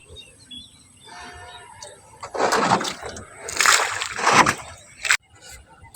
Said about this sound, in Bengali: নৌকাটাকে ঘুরিয়ে নিচ্ছি